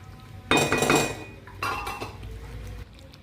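A spoon stirs chicken curry in a metal pot, with two short bursts of scraping and metallic clinking against the pot, close and fairly loud, and no speech.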